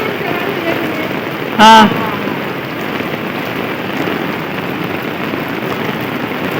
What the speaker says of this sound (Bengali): যে বৃষ্টি গো